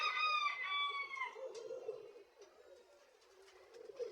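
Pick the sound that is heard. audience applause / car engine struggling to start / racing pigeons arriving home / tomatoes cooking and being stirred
racing pigeons arriving home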